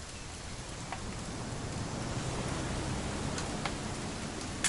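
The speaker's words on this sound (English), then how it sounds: "It's gonna rain the whole weekend" Constant rain pours down in a broad, even hiss in the video game What Remains of Edith Finch, with a few faint sharp ticks and a slight bump at the very end.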